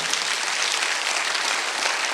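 A church congregation at a Sunday worship service claps together, a steady dense wash of hand claps sustained evenly throughout, with no voices over it.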